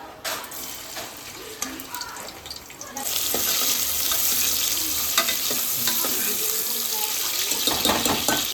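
Chopped onions hit hot oil in a pressure cooker while a goat-head curry is being made at home, giving a sudden steady sizzle from about three seconds in, loud and close with soft clinks, after a quieter start.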